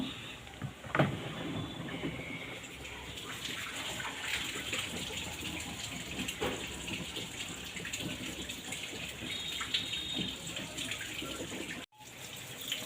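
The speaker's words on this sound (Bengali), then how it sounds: "আপাতত জল ছেড়ে দিচ্ছি।" Tap water running steadily in an outdoor washing area during morning laundry, a continuous close hiss and splash with a brief cutoff near the end, no voices.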